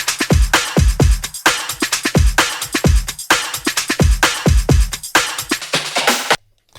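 An unmixed, soloed drum group stem plays a steady beat, with loud, punchy kick hits and crisp snare and cymbal strikes in a tight repeating pattern, close and dry, cutting off abruptly at the end.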